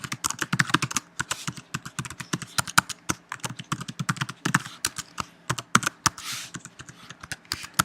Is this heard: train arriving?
no